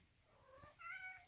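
A cat meows softly in a cluttered indoor craft room, two short rising calls, faint and alone.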